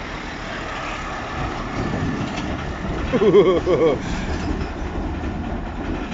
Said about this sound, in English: Oh, hang on, there's a lorry coming.